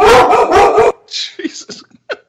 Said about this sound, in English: I think you just said El Neni in dog.